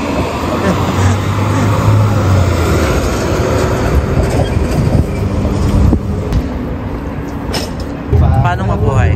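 A train passes in Calgary with a continuous heavy rumble and roar that stays loud throughout, while people talk over it.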